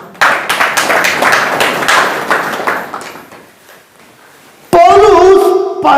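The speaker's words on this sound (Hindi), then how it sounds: "हाँ, मैं ताली बजाइए पास जी के लिए।" Audience clapping at a church sermon, a loud burst of applause lasting a few seconds before fading, followed by a sudden voice.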